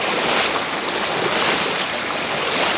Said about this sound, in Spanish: vemos una inmensa cantidad de agua que ingresa al pueblo